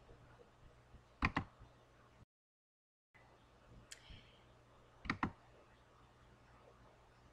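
Computer mouse clicks while working in CorelDRAW, two quick sharp double clicks a few seconds apart, faint and close against a quiet background.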